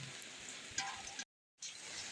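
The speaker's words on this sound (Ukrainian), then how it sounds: "Дощ спирає цілісінький день" Heavy rain falls steadily in a steady hiss, heard close and fairly faint, with a short break partway through.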